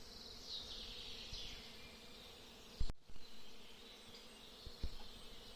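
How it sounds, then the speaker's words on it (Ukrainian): Bees hum continuously while gathering nectar from linden trees in full bloom, a faint, even outdoor buzz broken by a brief thump partway through. "То тому такий гул. Бджіл. Носять нектар."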